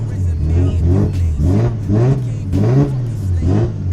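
Big-turbo Nissan Skyline R33 engine revving hard in repeated surges while driving, loud and close from inside the cabin, with rising and falling engine pitch throughout.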